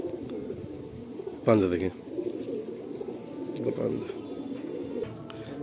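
Nepalgunge pigeons held for sale give a short burst of throaty cooing up close, while someone speaks nearby before and after it.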